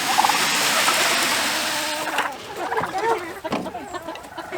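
Chickens cluck and murmur close by, with broadband rustling early on and a few sharper calls, while a person talks.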